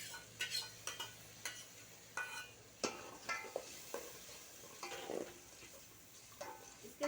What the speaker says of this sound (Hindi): इसमें हम 2 कप दही ऐड करने लगे